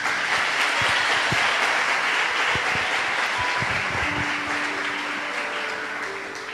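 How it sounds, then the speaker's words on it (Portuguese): A church congregation at a Sunday service claps together, a dense, steady wash of applause that fills the whole stretch and eases slightly toward the end. "As palmas para o Senhor."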